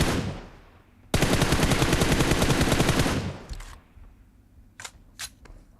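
A loud sustained burst of automatic gunfire in PUBG Mobile, about two seconds of rapid rhythmic shots, followed by a few faint distant single shots, with no talk.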